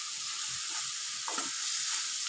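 Prawns with bitter gourd and potato frying in a pan produce a steady, close sizzling hiss, with a soft scrape of stirring midway.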